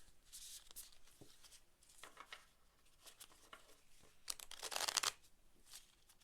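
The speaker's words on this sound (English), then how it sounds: "I love shuffling these cards. It's so satisfying." Tarot cards shuffled by hand at close range, a series of soft riffling and flapping bursts with a louder rapid riffle near the end, and no talk.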